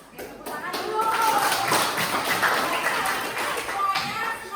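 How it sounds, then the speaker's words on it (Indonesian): A school mathematics class clapping their hands together, a dense patter of many hands that swells and holds steady, with voices mixed in. "Oke, tepuk tangan dulu."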